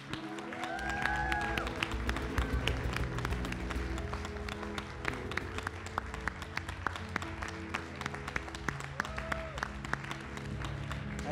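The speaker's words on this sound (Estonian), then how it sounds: "me tahame aplodeerida" A church congregation applauds Bible school and evening school graduates with sustained, mid-level clapping and a few whistles and voices mixed in.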